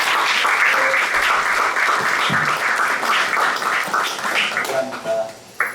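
Audience applause for missionaries at a church mission gathering in Mbeya, a dense, steady wash of clapping from a large crowd that holds throughout and tapers slightly at the end.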